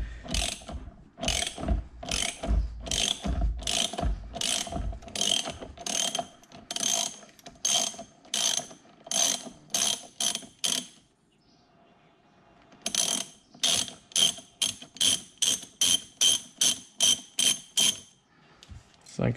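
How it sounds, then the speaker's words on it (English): A hand ratchet works a steering wheel bolt on a C7 Corvette, giving rapid, evenly spaced metallic clicks in bursts of strokes, close and crisp, with a short pause midway before the clicking resumes. "But you can see once I put it back on the ratchet,"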